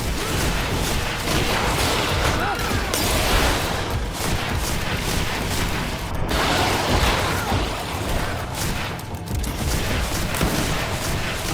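Dense, continuous barrage of gunfire and blasts in the fantasy action game Greedfall, a grenade explosion lost among loud battle noise that runs without pause.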